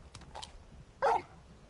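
Torgal, a large dog in Final Fantasy 16, gives a couple of soft yips followed by one sharper, louder bark, close by against a quiet game background.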